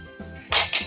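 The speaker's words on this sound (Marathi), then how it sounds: "एका कढईमध्ये तेल घालूया" Metal pots and pans clank twice in a home kitchen as oil goes into a kadai for restaurant-style paneer butter masala, two loud close bangs after a quiet start.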